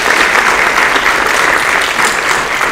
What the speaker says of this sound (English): So again, just a round of applause for our fall cheer team.